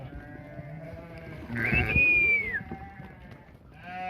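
A sheep in a flock offered for sale gives one clear, wavering bleat over a quiet outdoor background.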